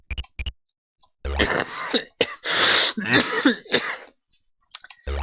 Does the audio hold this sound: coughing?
yes